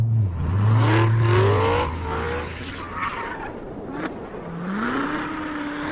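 A 2016 Chevrolet Corvette Z06 runs hard on a racetrack, its loud engine note rising and falling through gear changes while the tires squeal and skid through corners, with no talking.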